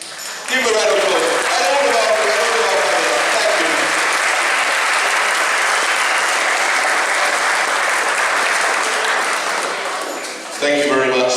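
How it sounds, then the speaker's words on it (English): An audience at a Christmas concert breaks into loud, sustained applause lasting about ten seconds, with a voice speaking briefly just before and right after the clapping. "Give him a round of applause."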